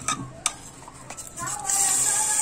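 Ghee melts in a pan while cooking paneer modak: a spoon clinks against metal a few times, then a steady bright sizzle rises and holds to the end.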